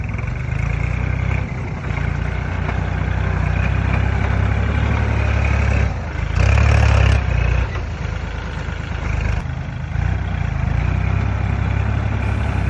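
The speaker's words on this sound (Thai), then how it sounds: "หลังจากที่เทดินแล้วก็ใส่รถไถมาปัดได้เลย" A tractor engine idles and rumbles steadily at close range while spreading topsoil, with a brief surge partway through, no voices present.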